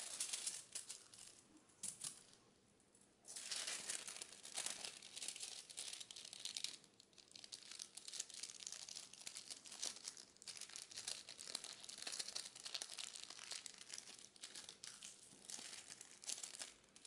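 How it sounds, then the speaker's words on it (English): A sheet of aluminium foil is folded into a small strip, giving a continuous close crinkling and crumpling with sharper crackles and a brief quieter gap, all faint and without voices. "Take a piece of aluminium foil and fold it until it is 2 times 6 cm."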